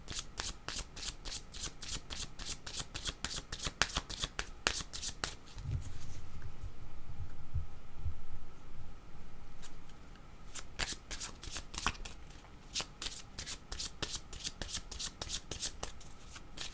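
Oracle cards are shuffled by hand in long, rapid riffling bursts, with a short quieter pause in the middle. The shuffling is close and crisp, with no talking.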